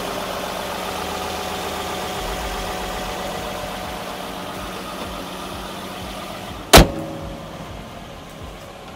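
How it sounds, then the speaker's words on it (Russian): A 2015 Nissan Fuga Hybrid's VQ35 V6 idles quietly and steadily as a soft, even hum, broken once by a brief sharp click. "Вот такой мотор VQ35 шепчет с гибридной установкой."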